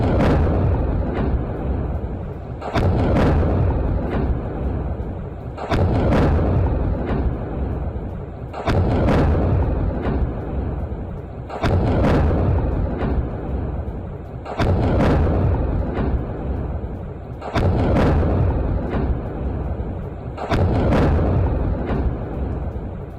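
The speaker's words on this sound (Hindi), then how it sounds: "वेस्ट बैंक में ईरानी मिसाइल गिरी है।" Iranian missile strike explosions in the West Bank, heard as a series of heavy booming blasts repeating about every three seconds, each a loud broadband thud with a rumbling tail, no voices over them.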